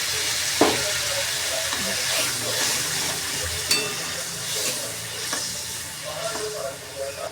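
Water swirled from a rinsed mixer jar is poured into a pan of sautéing vegetable masala, setting off a loud hissing sizzle, with clinks and stirring scrapes throughout and a little faint background talk.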